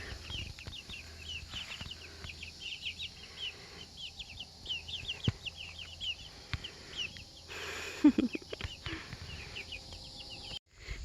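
Baby chicks in a brooder in a garage, many high, quick peeps repeating throughout, soft and close over a faint steady hum, with a few louder bumps.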